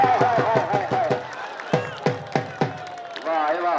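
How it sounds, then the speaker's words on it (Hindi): Crowd at a desi kushti wrestling bout between Nasir Pahilwan and Arif Pahilwan breaking into bursts of hand clapping, a run of quick claps followed by scattered single claps, with voices calling over the noise. "ताली"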